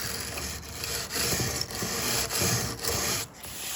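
A hand tool scrapes old layered paint off a wooden armoire in short, repeated rasping strokes, close and distinct, each pass a gritty rub with brief pauses between.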